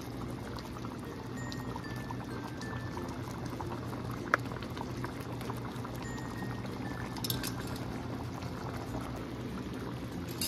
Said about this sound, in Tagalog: Hayaan lang natin siya kumulo pa ng konti.